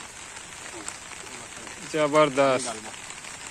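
Rain falling steadily outdoors during a rural Rawal festival gathering in Mohla district, a soft continuous patter throughout, with someone speaking briefly over it midway.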